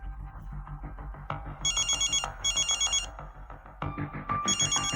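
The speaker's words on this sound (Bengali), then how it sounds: "দীপকের কথা শুনেই আথাভান সঙ্গে সঙ্গে কেশাভানকে ফোন করল" A telephone rings with loud, repeated electronic bursts in a steady on-off rhythm over a busy background of low tones.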